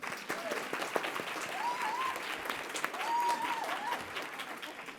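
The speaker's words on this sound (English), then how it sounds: "Let's clap for Colleen." An audience at a club forum applauds continuously for several seconds, a dense patter of many hands clapping at moderate distance, with a faint voice rising briefly through it.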